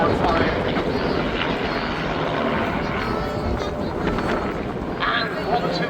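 Van's RV-8 light aircraft of Team Raven flying in formation at the Duxford Summer Air Show, a steady, loud propeller-engine drone with wind buffeting, under an announcer's commentary.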